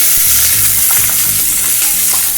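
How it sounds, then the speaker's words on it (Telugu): Sliced onions fry in hot oil with mustard seeds, sizzling loudly and continuously up close, with faint crackles and occasional stirring scrapes. "ఇది కొంచెం మనకి గోల్డెన్ కలర్ వచ్చేంత వరకు ఫ్రై చేసుకుంటే కొంచెం కర్రీ అనేది టేస్టీ ఉంటుంది"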